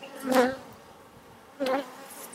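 Honey bees buzzing around an open hive during an inspection, with a queen replacement cell in the frame; two short, fairly faint bursts of buzzing close by, separated by a quieter stretch of low hum.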